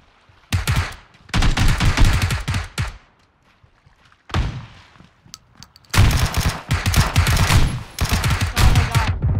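Gunfire in PlayerUnknown's Battlegrounds: loud, rapid automatic bursts of shots in several long volleys separated by short gaps of near silence, close and sharp.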